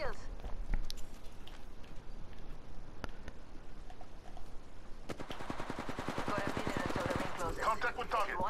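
Gunfire aimed at the player in a video game: scattered sharp shots early, then rapid bursts of automatic fire in the second half, fairly faint and mixed with background noise.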